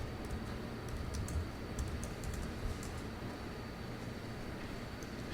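Fingers type a command on a computer keyboard, producing quick light clicking keystrokes in short irregular bursts over a steady hum of background noise, with no one speaking.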